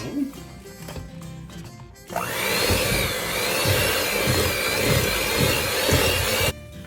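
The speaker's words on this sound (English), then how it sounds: "we're gonna mix all of this until it's crumbly" A kitchen mixer blends peanut butter and butter until crumbly, its motor whirring loudly and steadily from about two seconds in with faint knocking from the bowl. Just before it starts, a person speaks over background music.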